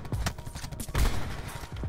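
A rapid burst of sniper gunfire in the video game Black Ops 4 crackles in quick succession, a few sharp shots close together over a brief moment.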